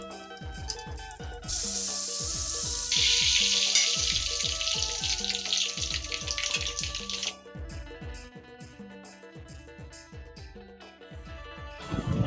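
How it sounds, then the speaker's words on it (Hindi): Spices tempering in hot oil for appe, a steady loud sizzle and crackle that swells strongly for several seconds then settles lower, over repeated rhythmic clinking and tapping in the kitchen, with no voices. "तो मैं एक अप्पे में डाले बर तड़का लगाया हूँ।"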